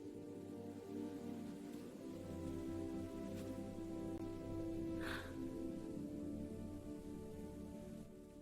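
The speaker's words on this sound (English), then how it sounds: "Rain slowly softened as the worst of the storm began to pass over the forest." Steady rain falls through a forest as a storm eases, a soft continuous hiss of drops on leaves and ground with no voices, holding even throughout.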